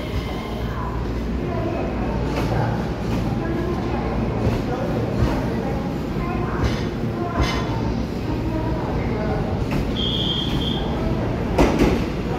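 A Taiwan Railway EMU3000 twelve-car intercity express train, unit EMU3025, rumbles steadily past for several seconds with rail clatter, a brief high wheel squeal and faint background voices.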